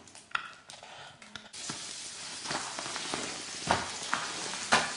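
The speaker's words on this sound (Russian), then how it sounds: "Сейчас будем жарить рыбку." Fish is dropped into a preheated skillet on a wood stove indoors, and a loud, close sizzle bursts in suddenly and keeps crackling with sharp spits and pops.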